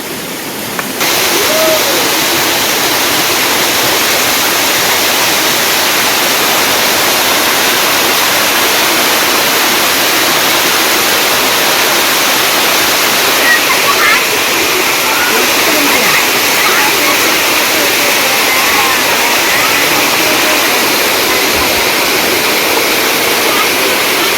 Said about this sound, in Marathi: हे बघा इथून हे असं पाणी पडतो खालती